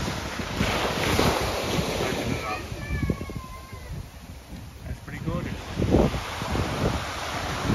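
Waves wash onto a beach at Phu Quoc, mixed with heavy wind buffeting the microphone. The surf rumbles on steadily, and voices can be heard in the background.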